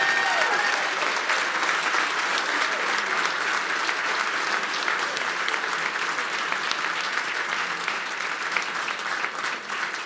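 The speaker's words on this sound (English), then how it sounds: "let's give Rob a round of applause" Steady applause from an audience at an awards event honoring a person of the year, dense clapping filling the room without a break, loud and sustained throughout.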